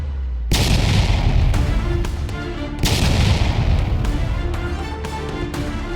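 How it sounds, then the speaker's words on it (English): Ukrainian artillery fire striking Russian armored vehicles during an assault on front lines: two heavy, loud blasts a couple of seconds apart, each followed by a long rumbling decay, with no voices. "First, the enemy armored vehicles came under fire from Ukrainian artillery"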